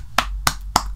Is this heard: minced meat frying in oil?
no